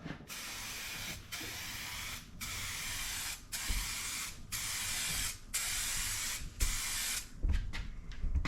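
A clear coat is sprayed onto a Lexus SC 430 headlight during refurbishing, with a series of close, steady aerosol hisses broken by short pauses between passes.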